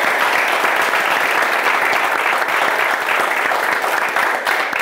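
A studio audience at a televised strength competition applauds Hovhannes Ghukasyan, a loud, dense, sustained clapping that fills the room.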